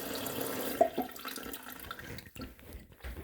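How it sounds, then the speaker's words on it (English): Tap water runs and splashes into a portable twin tub mini washer as it nears full, a steady close gurgle with small drips fading toward a shutoff at the end. "Okay, so we're pretty much full, and I'm gonna shut the water off."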